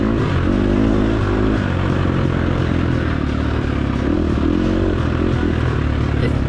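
A dirt bike engine runs under steady throttle on a rough hare scramble trail, a close, continuous buzzing drone with clattering and scraping from the terrain.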